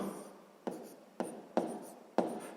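A pen writes out a math solution on paper, soft scratchy strokes with a few sharper taps, close and quiet with no talking.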